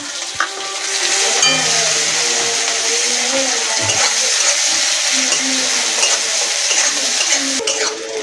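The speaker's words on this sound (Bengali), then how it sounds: "পেঁয়াজটা একটু লাল লাল করে ভেজে নেব" Onions frying in oil in a pan for a Bengali mustard greens dish, a steady close sizzle running throughout with faint clinks and stirring scrapes, no talk.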